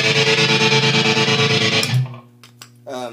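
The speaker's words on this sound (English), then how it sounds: "I like it more with the distortion on." A loud electric guitar chord distorted through a Boss distortion pedal sustains for about two seconds, then cuts off, leaving a few quieter plucked notes.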